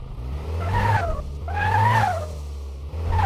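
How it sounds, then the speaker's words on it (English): A modified car engine in Car Mechanic Simulator revs in waves, with rising and falling whines and a steady low drone, and a short hiss of the dump valve between revs. "it's got a dump valve on it."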